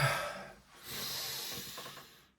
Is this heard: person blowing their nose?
yes